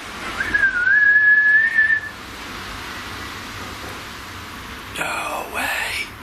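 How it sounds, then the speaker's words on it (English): A person whistles a single sustained, gently rising note at an old mill, clear and fairly loud, followed by quiet hiss and a brief rustle. "If I whistle, will you be able to whistle back for me?"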